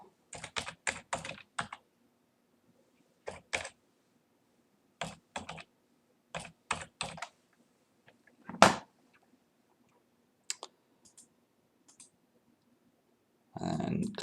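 Sharp computer mouse clicks while an invoice is emailed from accounting software, coming in quick clusters of two to four with pauses between, close and clear, ending with a denser patch of clicking.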